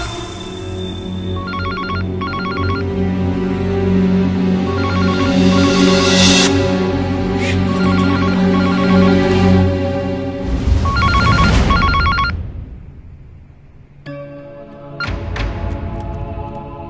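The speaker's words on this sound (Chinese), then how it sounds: "林桥打那个电话是打给我的" A telephone rings repeatedly in a tense scene from a family business-war TV drama, its electronic ringtone sounding in loud repeated bursts over background music, then pausing before ringing again.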